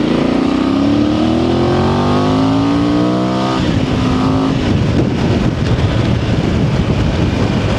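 Voge DS800X motorcycle engine accelerating while riding: a loud, rising engine drone climbs in pitch, breaks at a gear change, then gives way to a heavy rush of wind and road noise, close and steady.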